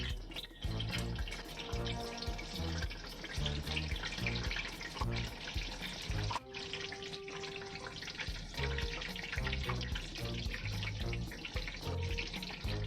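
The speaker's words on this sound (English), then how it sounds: "We're frying sweet potatoes." Sweet potatoes fry in a pan with a soft, steady hiss and crackle that continues throughout, faint and fairly close.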